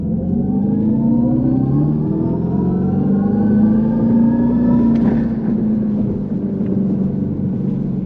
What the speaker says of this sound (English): with the all-wheel drive, I'm still getting that great pull from a dead stop